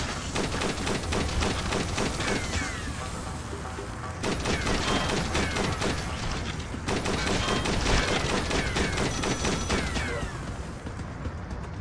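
Gunfire in the mobile shooter Dead Trigger 2, dense rapid bursts of loud automatic shots in three long volleys over game background noise.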